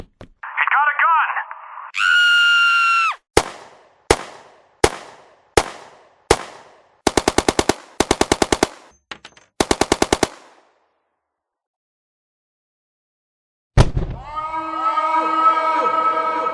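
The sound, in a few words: machine gun fire sound effect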